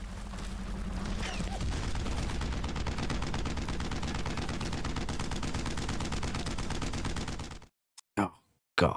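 Sustained rapid gunfire from the World War II shooter Brothers in Arms: Road to Hill 30, dense and loud for about seven and a half seconds, then cutting off before a few short bursts near the end.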